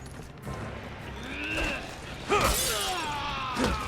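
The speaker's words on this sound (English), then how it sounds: "The shattering noise whenever you hit somebody is a little weird." In the Resident Evil 6 demo, a combat hit sets off a sharp, glassy shattering burst that rings briefly over soft game ambience and a few quieter clinks.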